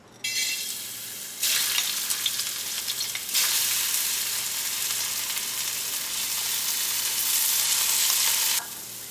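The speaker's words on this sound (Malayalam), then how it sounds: "ഈ പരിപ്പ് ചെറിയൊരു ബ്രൗൺ ആവുന്നത് വരെ വറുക്കാം." Green gram dal roasting in hot ghee in an uruli gives a steady close sizzle that swells in bursts as it is stirred, running on without any talk.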